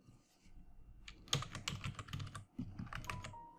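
Rapid typing on a computer keyboard, a quick burst of close, crisp key clicks with a short pause midway before the tapping resumes.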